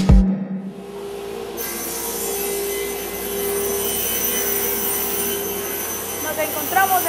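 A wood planing machine runs on balsa in a machining room, producing a loud, steady mechanical drone and whine that holds throughout after a brief knock at the start.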